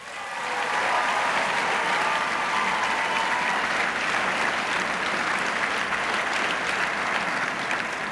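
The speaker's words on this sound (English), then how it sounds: "Please give a big round of applause to your governor" Sustained, dense applause from a large gala audience greeting Governor Jim Doyle, a steady roar of many hands clapping that holds at full strength throughout.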